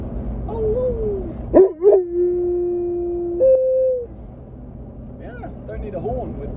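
A Rhodesian ridgeback howls inside a parked Range Rover Classic during a camping trip in Wales: one loud, wavering, sustained howl of about two seconds. Quieter human voices come before and after it.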